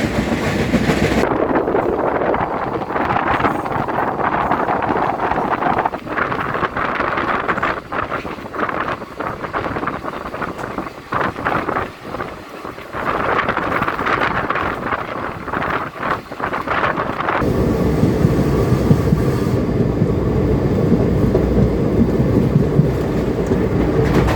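The 18047 Shalimar–Vasco Da Gama express passenger train rolls along the rails in India, heard from inside as a loud, continuous rumble with rattling and clattering wheel noise and gusts of wind. Near the end the tone changes to a smoother, steadier roar.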